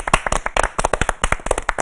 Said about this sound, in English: Let's have a round of applause for Soft.